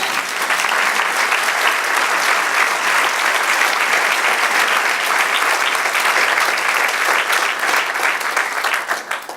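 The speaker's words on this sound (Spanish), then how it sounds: "Den un aplauso, Señor" A church congregation applauds, a loud, sustained, even wash of many hands clapping for about nine seconds, easing slightly at the very end.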